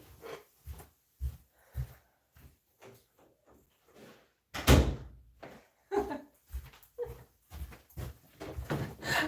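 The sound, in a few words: door being closed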